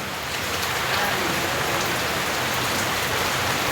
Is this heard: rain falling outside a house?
yes